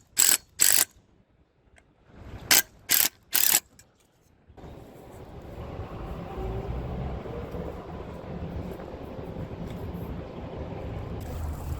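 A power driver sends screws into a bracket on a wooden fence post during a short fence section repair, giving several brief, sharp whirring bursts, followed by a steady low background hum.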